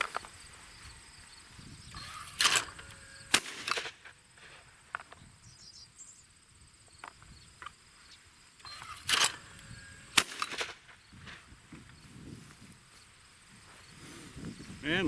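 Shots from a lightweight 2018 Fabarm Elos D2 twenty-gauge over/under shotgun: two pairs of sharp, loud reports, each pair spaced about a second apart, fired outdoors with insect chirping in the background.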